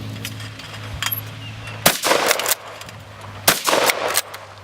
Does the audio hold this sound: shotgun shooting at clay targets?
yes